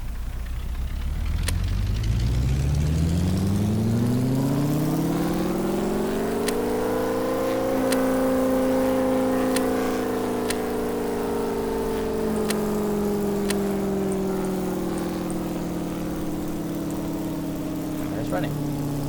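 A modular engine in the Stormworks game spins up after the starter is released, its steady droning tone rising in pitch over the first several seconds and then holding a loud, continuous hum, with a voice talking over it.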